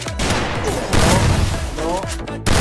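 Rapid bursts of gunfire ring out in the Free Fire shooter video game, with repeated shots running close together under a speaking voice.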